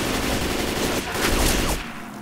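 Dense, loud automatic gunfire rattles continuously in Left 4 Dead 2 during The Passing on Expert, a steady barrage that cuts off abruptly near the end.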